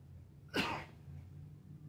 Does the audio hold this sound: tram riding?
no